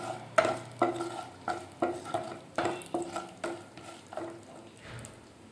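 Spices for a tempering crackle and sputter in hot oil in a kadai, with a series of sharp pops and stirring clinks repeating every half second or so, close and fairly quiet.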